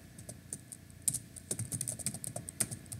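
Fingers typing code on a computer keyboard, a quick run of close, light key clicks in an uneven rhythm with a faint background hum.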